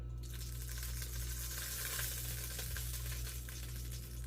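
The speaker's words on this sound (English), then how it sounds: "Hear that sizzling?" Extra virgin olive oil sizzles steadily in a hot pan on a home stove, a soft continuous crackling hiss with no talking over it.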